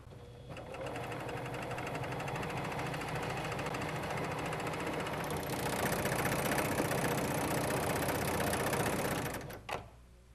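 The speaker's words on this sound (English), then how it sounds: "Place your fabric under the needles. Sew a couple of stitches." A Husqvarna Viking Huskylock 936 serger sews a chain stitch at slow to medium speed, a steady, fast mechanical whir and rapid needle chatter running for about nine seconds before stopping abruptly.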